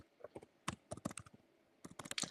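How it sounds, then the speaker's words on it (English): Typing on a computer keyboard, heard faintly and from a distance as irregular bursts of clicking keystrokes with a short pause in the middle. "he's typing. I can hear him typing."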